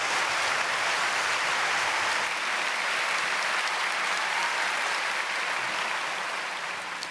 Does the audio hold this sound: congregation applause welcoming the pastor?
yes